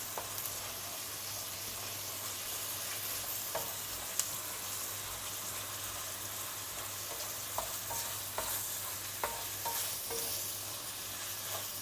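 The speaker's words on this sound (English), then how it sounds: "make sure both sides are well fried" Food fries quietly in a pan with a steady low sizzle. A few sharp clicks and taps of a utensil against the pan are heard now and then.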